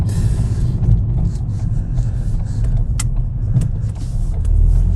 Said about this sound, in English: Let's experience what this turbo can do under full load, like an idiot, basically.